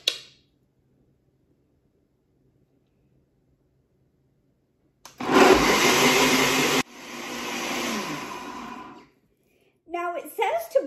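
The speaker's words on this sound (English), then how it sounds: "So I'm going to blend it and come back and I'll show you how long I blended it for." Almonds blending in a countertop blender to make homemade almond milk: a loud, dense whirring roar that starts abruptly, runs about two seconds, shifts to a slightly lower, softer grinding run, then cuts off before brief talk.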